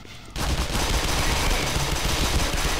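Sustained automatic gunfire in Black Mesa on hard mode, a dense continuous burst of rapid shots unleashed on an enemy, starting abruptly after a short quiet moment and staying loud throughout.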